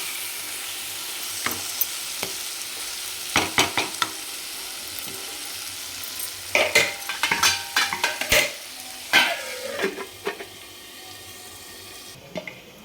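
Soaked peas fry in spiced oil as they are stirred, a soft background sizzle broken by bursts of clattering spoon scrapes and knocks against the pan, close and uneven, with no speech.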